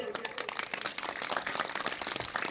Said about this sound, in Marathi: सर्वात पहिल्यांदा आपण त्या बालवक्त्यांसाठी टाळ्या वाजवूयात